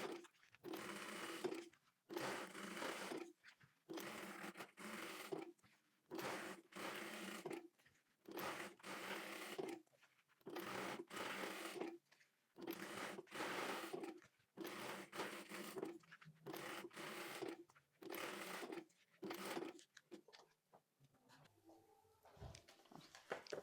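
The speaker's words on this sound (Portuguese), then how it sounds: "Fiz todas as costuras de um lado, agora eu viro e vou fazer todas do outro lado." A domestic sewing machine stitches quilted synthetic leather for a handbag in repeated bursts of rapid mechanical whirring, each run lasting a second or two and separated by short pauses, ending with quieter handling noises.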